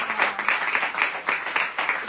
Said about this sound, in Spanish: Os pediría un aplauso